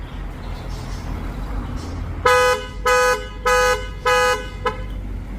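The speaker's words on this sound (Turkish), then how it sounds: "Çift kitlemede kornamız" A Ford Transit pickup's horn beeps four times in a steady rhythm on double locking, followed by a short fifth chirp, loud and close over a quiet outdoor background.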